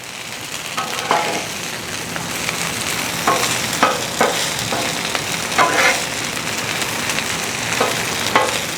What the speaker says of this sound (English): let's flip these tater tots over and see how they're doing